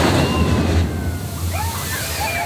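Water splashing and sloshing steadily in a theme park splash zone at Busch Gardens Tampa, a continuous wet wash close by with faint crowd chatter mixed in.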